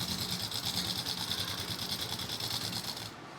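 Sewing machine running steadily as it stitches a kurti seam, a continuous close whirring hum at even speed that stops just before the end.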